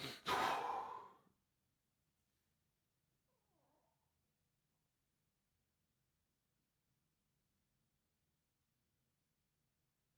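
A single strong, close exhale during a beginner's morning yoga breathing exercise, lasting about a second, is followed by a long stretch of near silence.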